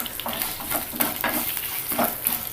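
Crushed garlic cloves and two broken dried red chilies fry in oil for a tomato coriander chutney, with a steady close sizzle and rhythmic bursts of stirring scrapes in the pan, no voices.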